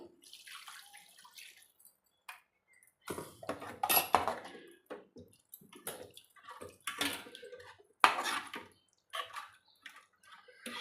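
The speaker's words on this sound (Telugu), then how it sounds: "మిక్సీలో కొన్ని నీళ్ళు వేసుకొని" Water poured into a mixer jar while making egg pulusu, an egg curry, in a home kitchen: irregular splashing bursts mixed with clinks and knocks of the jar, close and fairly loud, separated by brief quiet gaps.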